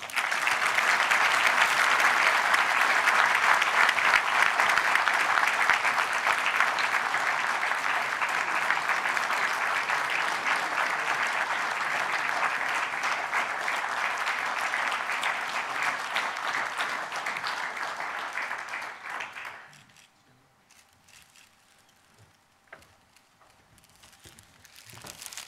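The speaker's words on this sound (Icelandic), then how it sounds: "Og ég gef honum gott klapp." An audience at an Icelandic seafood industry association annual meeting applauding an award recipient, a dense, loud, sustained wash of clapping that gradually thins and cuts off near the end, followed by near silence and faint room sounds.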